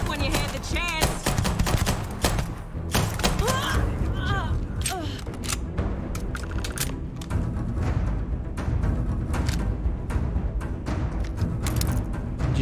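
Rapid bursts of pistol gunfire in the video game Starfield crackle repeatedly amid mechanical clanks and game sound effects, with a voice briefly audible early on.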